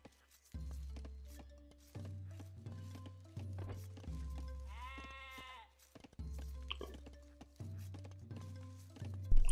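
A single sheep bleats briefly in the middle of the Age of Empires 2 game sound, with a wavering, harmonic call set over steady, pulsing background music and game effects.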